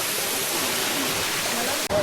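Waterfall on the Nethravathi trek, a dense steady roar of rushing water filling the short stretch before it cuts off abruptly.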